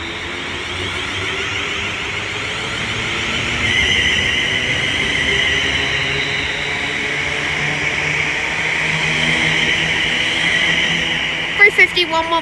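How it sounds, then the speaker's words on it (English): A London Northwestern Railway service from Crewe to London Euston pulls out of Milton Keynes Central on the West Coast Main Line: a steady, rolling rumble and hum that swells slightly, then a few sharp clunks close by at the end. "Now departing is the 15:14 London Northwestern Railway service from Crewe to London Euston."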